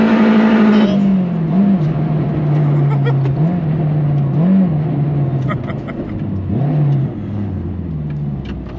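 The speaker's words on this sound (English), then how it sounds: "So I'm in 3rd gear now, doing 40 miles an hour. Spinning." Turbocharged K20-engined Honda Integra DC5 Type-R accelerating hard in third gear at about 40 mph with wheelspin on Goodyear tyres, a loud sustained engine drone with rising and dipping pitch and turbo whir throughout.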